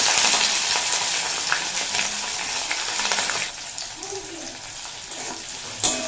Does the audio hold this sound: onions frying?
yes